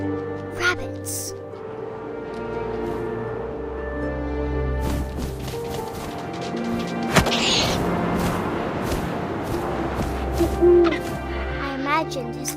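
An owl hoots in the video game What Remains of Edith Finch, with repeated hoots over a layered ambient score of wind and scattered thumps, while a voice narrates.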